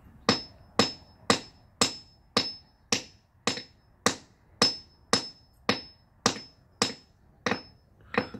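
A hammer strikes a geode in about fourteen sharp, evenly spaced cracks, each hit close and crisp with a brief ringing decay and quiet between blows.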